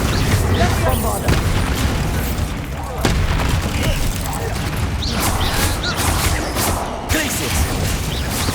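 Bombarda explosion spell going off in the Hogwarts Legacy video game: a dense, loud burst of booming, crashing game effects that rumbles continuously, with a voice heard over the din.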